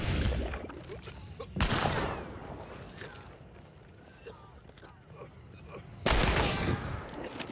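Two sharp, loud sniper rifle shots from Hunt: Showdown, spaced a few seconds apart, each followed by a short rumbling echo, with a voice talking in between.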